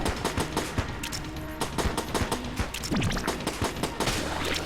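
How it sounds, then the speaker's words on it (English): Pistol fire in the roguelike shooter Enter the Gungeon, rapid repeated shots in a quick, uneven rhythm, loud and steady over game music and effects. "I guess we'll just finish it off with the base pistol so we're not wasting any ammo."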